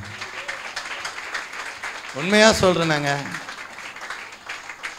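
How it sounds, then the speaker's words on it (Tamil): A congregation at a church dedication service marking a 27th anniversary applauds with steady, moderate clapping, broken midway by a loud spoken phrase from a man before the clapping continues. "நம்முடைய வாலிப பிள்ளைகளுக்கு கொஞ்சம் நல்லா கைத்தட்டுங்க."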